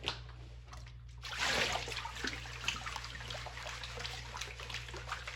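Gold pay dirt from a sluice box is panned in water, giving soft swishing, trickling and splashing sounds that swell and then settle into a continuous quiet wash.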